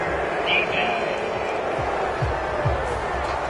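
In a football video game, a simulated stadium crowd roars and murmurs in steady disapproval after a penalty, with commentary talking over the noise.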